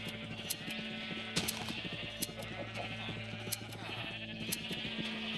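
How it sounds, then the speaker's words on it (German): Sheep in the video game Minecraft bleat repeatedly in short, nasal calls that overlap one another. The calls sound close and steady over a game soundtrack, with no talk. "Dankeschön, liebe Schafe."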